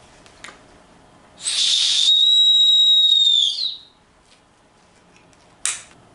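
An Osprey Exos 48 backpack's chest-strap safety whistle gives one loud, steady shrill blast of about two seconds, followed later by a brief short chirp, with no one talking.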